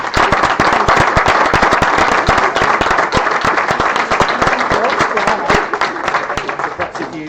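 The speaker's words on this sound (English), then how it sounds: "I think another round of applause." An indoor audience gives a round of applause at a workplace improvement report-out event, dense rapid clapping that stays loud and steady for several seconds before gently tapering off.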